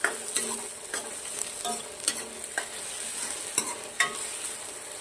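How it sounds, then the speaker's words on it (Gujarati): Onions fry with dried red chillies, bay leaf and black cardamom for a Rajasthani besan gatta curry, a soft, steady sizzle broken by light spoon scrapes and taps against the pan, fairly quiet and close. "મસ્ત ડુંગળી લાલ થાય ત્યાર સુધી શેકવાની છે."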